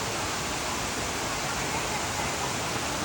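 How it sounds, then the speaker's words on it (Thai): Waterfall at a park in Nakhon Nayok, Thailand, a steady broadband rush of falling water that holds level and continuous throughout, filling the scene with no clear voices on top. "นี่ตรงนี้ก็เป็นน้ำตก คือฟิลแบบดีมาก"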